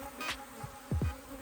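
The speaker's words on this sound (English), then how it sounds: "there's a whole bunch of bees on this edge frame" Honey bees on the edge frame of a beehive give a faint, close buzz, with a few brief wingbeat hums and soft rustling bursts over a quiet background.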